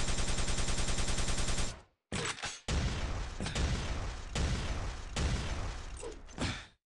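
Rocket fire and blasts in the Quake DeFRaG arena shooter, with dense loud bursts of sharp, broadband explosions overlapping one another, a short gap of near silence, then a further run of rapid impacts that cuts off abruptly near the end.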